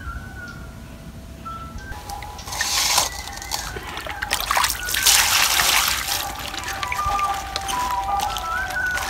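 Cut vegetables are washed in water in a Bangladeshi village, with splashing, trickling and sloshing that swells in the middle, while a distant loudspeaker and birds sound faintly in the background.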